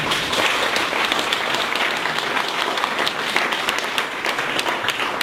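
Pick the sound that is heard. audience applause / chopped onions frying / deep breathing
audience applause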